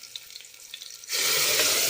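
Mashed lentils hit a pan of sautéed onions with asafoetida while cooking a drumstick-leaf sambar, and a sudden loud hiss of frying breaks out after a second of faint clinking and stirring.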